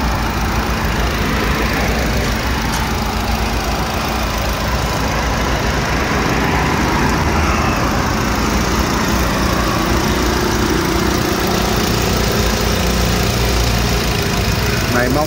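A 2015 Nissan Sunny with a 1.5-litre 16-valve engine and manual gearbox idles with a steady, continuous hum that stays at the same level throughout.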